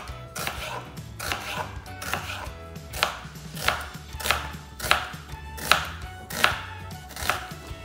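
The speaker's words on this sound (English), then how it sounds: "I'm just going to chop the onion into slim wedges" A knife chops an onion into slim wedges on a cutting board, about a dozen crisp, evenly spaced thuds close by with no one talking.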